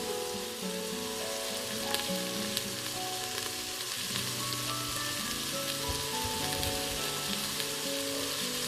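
Onions fry in a pan for a homestyle lamb curry, a steady close crackling sizzle with small pops that continues evenly without talk.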